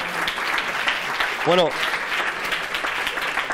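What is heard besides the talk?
applause for Álvaro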